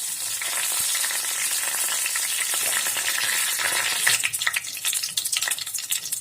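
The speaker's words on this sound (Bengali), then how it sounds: "এখানে ডালচিনি লং এলাচ দিয়ে দিলাম এবার একটু নাড়াচাড়া করে নিব এবার দিয়ে দিলাম তেজপাতা" Whole cinnamon, cloves, cardamom and bay leaf frying in hot oil in a pan, a steady close sizzle with scraping stirring clicks that grow sharper and more broken toward the end.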